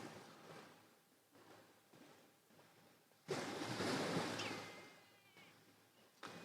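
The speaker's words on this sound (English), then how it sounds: "enjoy the sound of the lapping waves" Soft waves lapping on a quiet beach of powder sand at sunrise, a low steady wash swelling gently in long rolls, one fuller surge midway, heard alone with no voices.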